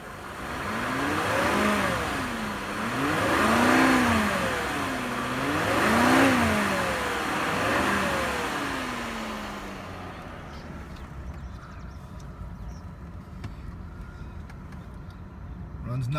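A 2003 Cadillac DeVille engine revs in several rising and falling swells for about nine seconds, then settles into a quieter, steady idle. The engine is close and moderately loud, with no talking.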